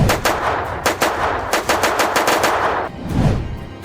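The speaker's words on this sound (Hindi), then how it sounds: "लगातार 72 राउंड फायरिंग।" A sustained burst of machine gun fire, rapid loud shots in quick succession for several seconds, then a brief trailing rumble.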